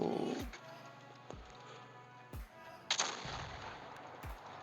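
High-explosive shells fired by a tank in the World of Tanks video game, with several sharp booming shots spaced through the clip, one louder crack near the end, and a steady engine drone underneath.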